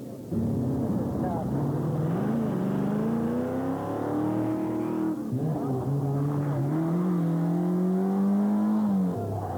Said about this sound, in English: Listen to that car as it winds its way up through there